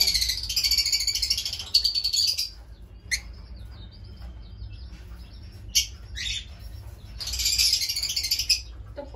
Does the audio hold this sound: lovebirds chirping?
yes